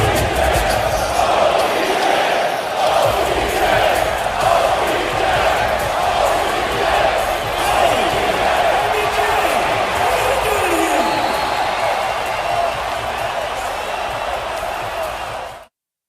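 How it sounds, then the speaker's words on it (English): A loud, excited crowd roars and cheers inside an arena at a Dallas Mavericks basketball game, a dense sustained wall of voices that drops off abruptly at the end. "listened to how excited the crowd was to see OBJ."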